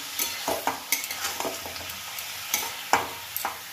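Bori and grated coconut frying in a pan, a continuous sizzle punctuated by repeated spatula scrapes and clicks against the metal at an uneven stirring rhythm.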